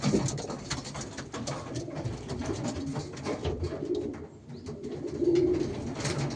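Racing pigeons coo repeatedly in soft, low murmuring calls over a busy, fairly close background of fluttering and shuffling.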